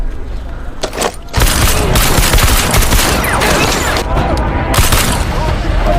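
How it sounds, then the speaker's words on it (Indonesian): Sustained heavy gunfire erupts after a brief pause, dense overlapping shots and booms roaring loudly and continuously. "Saju pun menembaki mereka dan tembak-tembakan pun terjadi"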